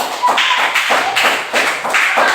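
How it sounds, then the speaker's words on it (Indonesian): A classroom of students applauds a group after its presentation, with loud clapping pulsing in a quick, even rhythm close by. "Tepuk tangan untuk kelompok 3."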